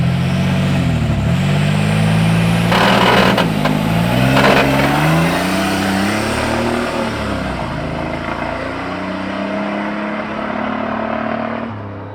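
A junkyard-turbo S10 pickup engine revs hard in repeated surges, loud and close, its pitch climbing and falling with a rough, strained edge over steady mechanical roar, with no voices.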